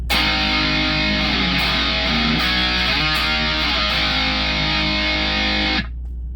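A heavily distorted electric guitar plays a chugging riff with dense, saturated tone, loud and continuous, then cuts off abruptly near the end.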